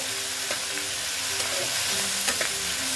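Tomato frying into a masala base for a snakehead fish curry with onion greens, a steady sizzle with soft stirring scrapes, no talk.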